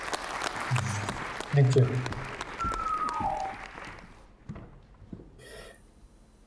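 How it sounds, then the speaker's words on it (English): An online conference audience gives scattered applause for a speaker, loudest at first and then fading to quiet, with someone speaking briefly over it. "you're going to get an applause on your way"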